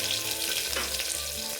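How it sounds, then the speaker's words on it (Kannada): Curry leaves and chopped onion fry in hot oil with a steady, dense crackling sizzle, close and unbroken throughout, with no voices. "ಸ್ವಲ್ಪ ಸಿಡಿದ ಮೇಲೆ ಇವಾಗ ಕರಿಬೇವಿನ ಸೊಪ್ಪು ಹಾಕ್ತಾಯಿದ್ದೀನಿ. ಇವಾಗ ಕಟ್ ಮಾಡಿರುವಂಥ ಒಂದು ಅರ್ಧ ಈರುಳ್ಳಿನ ಸೇರಿಸ್ತಾಯಿದ್ದೀನಿ."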